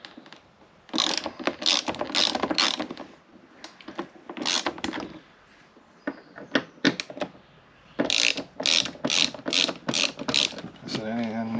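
A ratchet undoing fasteners on a Porsche Boxster door card: close, loud bursts of rapid clicking, several runs of quick ratcheting separated by short pauses and softer handling noises.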